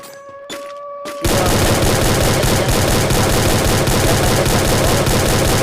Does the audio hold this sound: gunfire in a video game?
yes